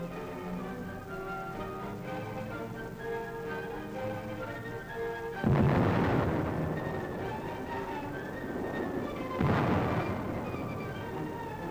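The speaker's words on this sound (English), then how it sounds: "They're entrenched in the city's post office and under repeated fire of Nazi-trained militiamen." Gunfire and heavy blasts sound during the 1939 attack on the Danzig post office, with two loud broadband booms rising out of a steady rumbling background, distant and reverberant, without any voices.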